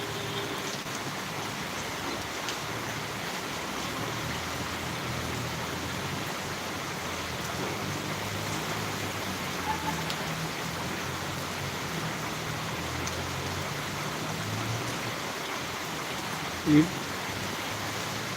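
Heavy rain in Tirunelveli, a steady, even hiss of rainfall that carries on for the whole stretch with no voices over it.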